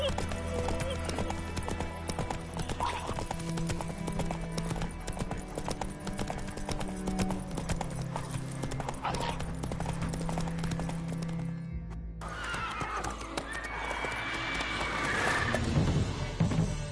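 A horse gallops in The Witcher 3, rapid hoofbeats pounding close and continuous, with a whinny and neighing mixed into the game soundscape near the end.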